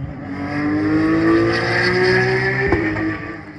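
A Porsche GT4 passes close by on the Dijon-Prenois circuit, its engine note loud and rising steadily as it accelerates past, with no voices.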